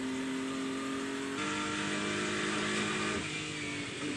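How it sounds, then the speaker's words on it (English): A Lexus and a BMW race car accelerate down the long straight at Mosport, their engines loud and sustained with rising revs and a sharp pitch shift at each upshift, no talk over them. "is firmly in the draft as they make their way down the long Mario Andretti straight"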